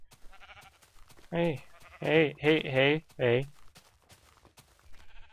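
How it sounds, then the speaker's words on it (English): A sheep in the Minecraft video game bleats several times in a row, loud and close, with someone briefly speaking around the calls. "Hey sheep."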